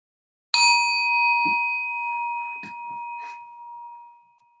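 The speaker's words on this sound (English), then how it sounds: "then I will ring the bell, and when the sound is gone" A single bell struck once at the close of a breathing meditation, a bright ring with a long sustained tone that slowly fades, with a few faint soft rustles underneath.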